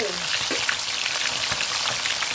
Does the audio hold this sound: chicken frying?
yes